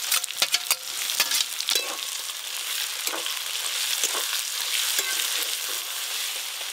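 Chopped onions hit hot oil with whole spices such as cumin for a chicken curry, giving a steady, close sizzle with a few sharp stirring clicks at the start.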